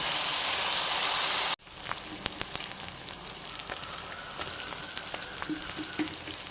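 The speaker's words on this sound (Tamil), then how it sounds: "இப்போ எல்லாம் சேர்ந்து நல்லா பச்சை ஸ்மெல் போகிற அளவுக்கு நல்லா வதங்கி வரட்டும்" Onions and spices fry in a pan for a chicken dish. A loud sizzle cuts off abruptly, then resumes as a softer crackle with scattered pops and stirring clicks.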